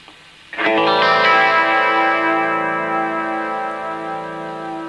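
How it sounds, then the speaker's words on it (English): A single guitar chord played through a Boss phasing pedal rings out and sustains, its tone gently swirling and shimmering with a soft phasing effect as it slowly fades. "a little box which is called a boss pedal, which gives a very gentle phasing"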